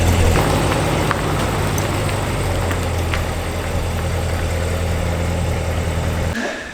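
Corvette C7 Z06 with aftermarket headers idling in town, a deep, loud, steady burble with low rumbling pulses, running alone until it cuts off abruptly near the end.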